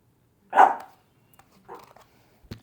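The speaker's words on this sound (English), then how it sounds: "You hear her barking in the background." A single sharp dog bark rings out, followed by a couple of softer, fainter yips in an otherwise quiet space.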